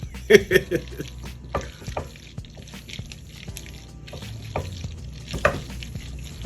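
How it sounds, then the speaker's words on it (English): Unsalted butter being stirred into a pot of mac and cheese until it melts, soft wet scraping and squelching strokes at an uneven pace, close and moderately quiet. "Mix all of that wonderful butter inside there."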